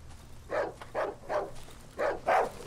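A dog in the Darkwood video game barks five times in an uneven rhythm, each bark short and moderately loud against a quiet, low ambient hum.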